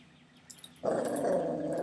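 A dog growls close by: after a quiet moment, a low, rough, sustained rumble starts abruptly and holds steady to the end.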